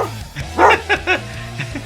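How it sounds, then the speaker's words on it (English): A few short dog barks and yips, fairly close, spaced irregularly over a low steady hum. "Yeah, the dog's always barking."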